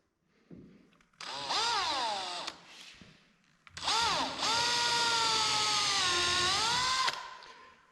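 A power drill pre-drills countersink holes during a kitchen install in a passive SIP house, whining loudly in two long bursts with pitch bending as it speeds up and slows, close and alone.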